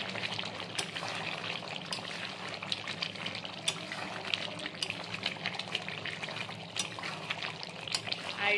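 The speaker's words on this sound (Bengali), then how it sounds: "একদম এটাকে নেড়ে ছেড়ে একদম সেদ্ধ" Chicken curry with meat masala bubbles and simmers in a pot, a continuous wet burbling with small pops and clinks from stirring, close and fairly quiet.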